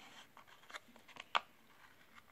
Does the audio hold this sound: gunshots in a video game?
no